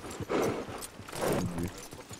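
Horse hooves clip-clop in Red Dead Redemption, a steady run of moderate footfalls in the game while faint game sounds carry on around them.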